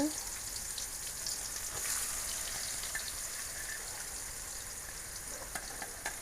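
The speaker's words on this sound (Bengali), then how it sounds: "আলু ভাজার পরে পেঁয়াজ দিয়ে দিতেছি" Sliced onions fry in hot oil after potatoes, giving a steady, soft crackling sizzle with faint stirring scrapes throughout.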